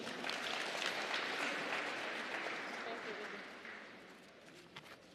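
Audience applause at an Africa Day conference on decentralisation and local governance, a sustained wash of clapping from a crowd that slowly fades toward the end.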